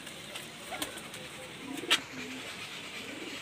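A female pigeon coos softly, with a couple of short coos standing out against a quiet, hissy background.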